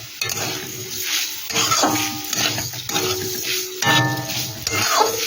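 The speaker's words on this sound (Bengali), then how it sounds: "আমি এখানে কড়াইতে দিয়ে দিচ্ছি পনির, আর দিয়ে দিচ্ছি অল্প করে একটু চিনি" A spoon scrapes and stirs paneer and sugar in a metal wok with a faint sizzle, in repeated strokes close by.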